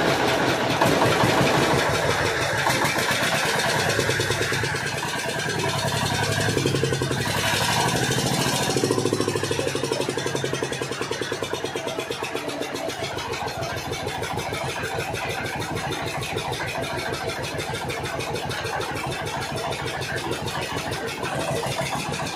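A Changfa diesel engine from China, just repaired after a black smoke fault, starts and then runs close by with a loud, steady, rapid chugging that settles into an even idle.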